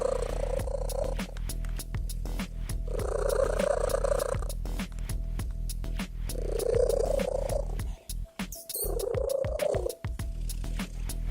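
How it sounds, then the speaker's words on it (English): Merlin, a 13-year-old English cat, purrs very loudly and close up in long rumbling bursts, each drawn breath making a steady throbbing drone with brief pauses between. "13-year-old Merlin now is the world's loudest purr at nearly 70 decibels."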